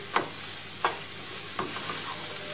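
Onions cooking in olive oil, a soft, steady sizzle broken by three quick stirring scrapes, faint and close with no talk.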